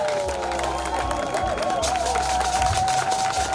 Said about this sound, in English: Hey, clap, clap, clap, clap.